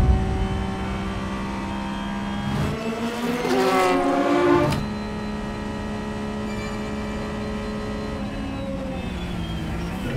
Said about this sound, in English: riding on board the Porsche there